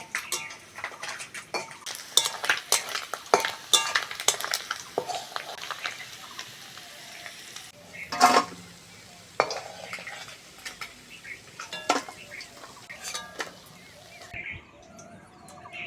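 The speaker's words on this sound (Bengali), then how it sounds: "মাছগুলো ভাজা হয়ে গেছে এবার তুলে নেব" Fried mourola fish being lifted out of hot oil in a pan, with repeated sharp spatula scrapes and metal clinks over a faint background sizzle.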